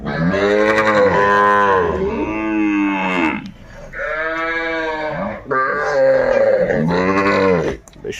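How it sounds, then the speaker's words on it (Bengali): Small calves at a cattle market moo loudly and close by in long, drawn-out calls, about four in a row with brief pauses between them. "এখানে কিছু বাছুর করে সংগ্রহ করছে নূর ভাই"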